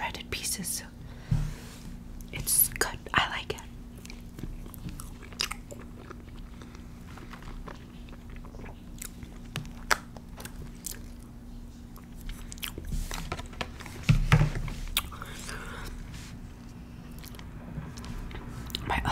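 Close, quiet bites and soft crunchy chewing of moist carrot cake, spread through the stretch between soft whispering.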